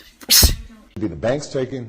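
A single sharp sneeze bursts out up close, followed by someone talking.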